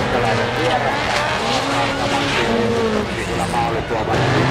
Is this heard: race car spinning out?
yes